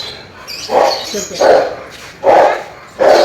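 A dog barks four times at a moderate distance in a loose, uneven rhythm, with faint background noise between the barks.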